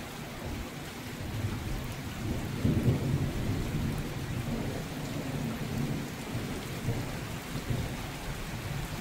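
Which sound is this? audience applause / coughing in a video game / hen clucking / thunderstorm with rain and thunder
thunderstorm with rain and thunder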